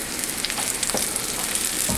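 Schnitzel frying in a pan for a traditional German meal, a steady close sizzle and crackle of hot fat with small pops and no talk.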